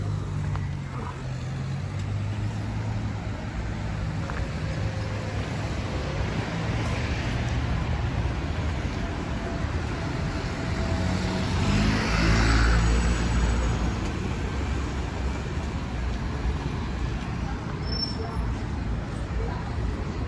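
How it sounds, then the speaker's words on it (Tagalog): A deep, steady rumbling hum from a train passing underneath a street, continuous and broadband with a slight swell in the middle, with no clear voices over it. "Naririnig niyo yung hugong ng train sa ilalim."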